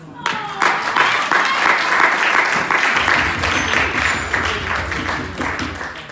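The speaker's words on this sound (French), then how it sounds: "là vous avez acclamé pour moi" Applause and cheering from an audience at a women's celebration event, dense clapping throughout with raised voices and some whoops mixed in, loud and sustained.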